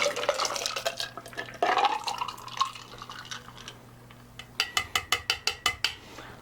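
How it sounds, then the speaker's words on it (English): A Bloody Mary pours and splashes over ice in a glass, clinking and gurgling, followed by a quick series of sharp, regular rattling taps. "And then you can pour your Bloody Mary in."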